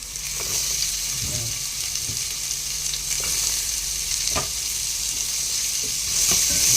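Onion and ginger sautéing in a hot pan for chicken adobo, giving a continuous close sizzle with faint scrapes and light taps as they are stirred.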